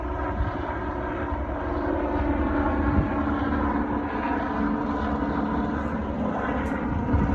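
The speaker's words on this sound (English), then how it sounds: "The obligatory helicopter, if I can capture it." A constant engine drone from a helicopter passing overhead in Australia, steady and moderately loud throughout with no talking.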